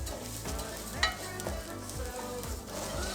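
Jasmine rice is stirred around a pot with ginger and garlic, soft frying sizzle under repeated scraping strokes at a steady rhythm, fairly quiet.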